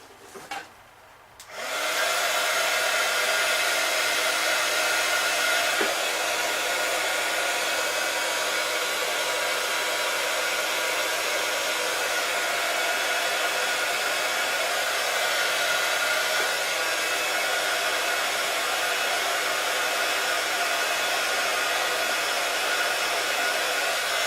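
A hair dryer blows on paint splattered on a ballerina skirt, switching on after a brief pause and then running as a loud, steady airy whoosh that continues without a break.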